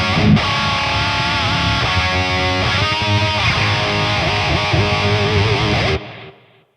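A heavily distorted electric guitar through a high-gain amp with reverb and delay plays a dense, sustained riff, loud and saturated, then cuts off and a short reverb tail fades away.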